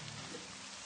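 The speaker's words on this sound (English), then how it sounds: "It starts raining before I go outside." Rain in an RPG Maker video game, a steady soft hiss of falling rain and drops on a surface, faint and continuous with no voices.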